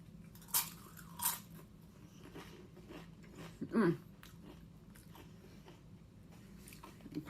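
A crunchy cauliflower-based snack dipped in salsa is bitten and chewed, giving a few sharp, close crunches at irregular intervals, with quieter chewing between them and a low room hum underneath.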